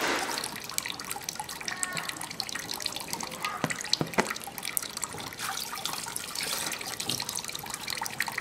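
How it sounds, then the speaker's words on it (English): Tap water running steadily into a sink while vegetables for spring rolls are washed, a close, continuous splashing with small knocks and drips. "now we start to clean, wash the vegetable for the spring roll"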